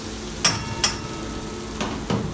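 Eggs fry in a pan for anda ghotala in a restaurant kitchen, a steady sizzle broken by a few sharp utensil knocks against the pan.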